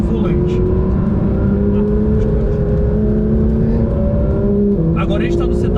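A Porsche 911 GT3 RS engine drones loud and steady on a lap, holding a smooth, rising tone with a brief gear-change dip near the end. A person talks continuously over the engine.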